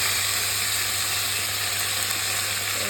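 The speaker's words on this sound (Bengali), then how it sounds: "তেল থাকছে, তেলগুলো ছিটছে খুব।" Fish frying in hot oil in a wok, a dense, steady sizzle and crackle of spattering oil that holds evenly throughout with no talk.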